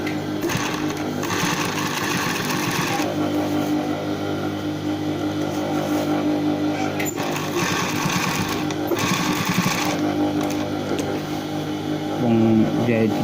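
A sewing machine stitching a trouser waistband runs in a fast steady whir in several bursts with short pauses, close, while someone talks over it.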